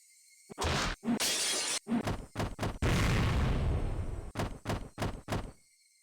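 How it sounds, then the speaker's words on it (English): In the Higurashi: When They Cry Meakashi video game, a door is banged on in a series of loud, sharp knocks. A longer crashing burst breaks into the middle of the knocks, and no one speaks. "Mion banged on the door."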